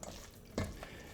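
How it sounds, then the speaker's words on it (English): Thick, wet bread dough being stirred in a bowl gives a soft, close squelching swish with one brief louder scrape in the middle. "So giving it a good stir."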